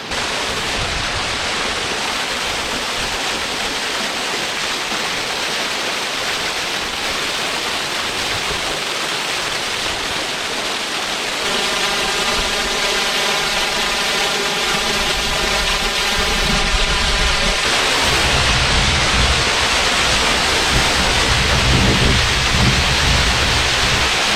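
Dark Hollow Falls, a waterfall in Shenandoah National Park, gives off a loud, steady broadband roar of falling water, constant and close throughout with no voices.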